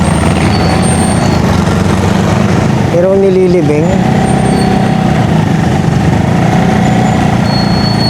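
Heavy road traffic with trucks rumbling and an air brake hiss, loud and continuous, with someone talking over it.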